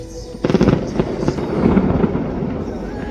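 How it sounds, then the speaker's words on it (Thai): Chinese New Year fireworks at Kings Romans, Laos, burst in a dense, loud volley of booms and crackles that begins suddenly and then settles into a sustained rumbling roar. "ก็จะมีการจุดพลุอย่างนี้นะครับ"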